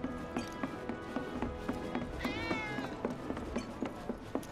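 A cat meowing in Final Fantasy 7 Remake, one clear rising-falling meow near the middle over busy game ambience with footsteps, rhythmic clip-clop-like thumps and background music.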